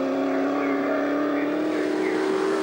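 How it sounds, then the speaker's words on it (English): A Skoda rally car with a rear-mounted V8 driving through a Porsche gearbox and transaxle runs hard at a rally sprint, its steady, loud engine drone holding a sustained tone with a slight rise throughout, no voices. "So this is our co-commentator, Trevor Crowe, in his Skoda V8."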